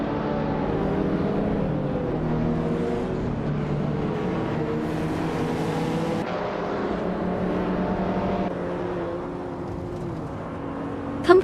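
Engine drones from racing cars at the Albi Vintage track in a video game race, including a 2006 Porsche Cayman S, hold steady and dense throughout, with layered revving tones shifting in pitch and a brief sharp sound at the very end.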